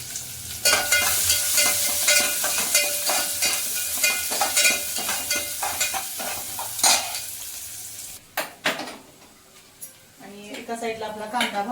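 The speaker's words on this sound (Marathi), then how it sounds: "तर चला आता भाजी मी लगेच फोडणी टाकते" A phodni tempering for brinjal curry sizzles loudly and steadily in hot oil, with utensil clinks and scrapes. After a pause, someone talks under a quieter fry.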